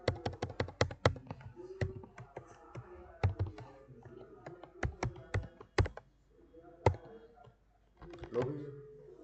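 Irregular bursts of clicky keystrokes on a computer keyboard, close and fairly quiet, with a few pauses between runs of typing and faint murmuring in the gaps.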